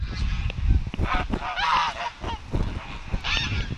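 A duck honks loudly and close by, letting out a run of harsh, repeated calls with brief gaps between them.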